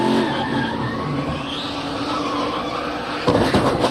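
A NASCAR stock car at the 2014 Blue Jeans Go Green 200 spins and skids with loud tire noise over a roaring engine, continuous throughout and swelling sharply near the end.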